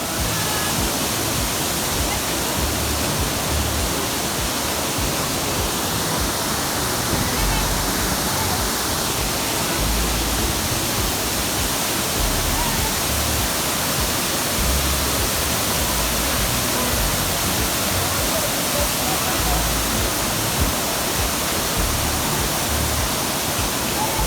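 Kahunira waterfalls on a forest trail hike, a loud, steady roar of falling water filling the whole scene without a break, close by, with voices faintly underneath.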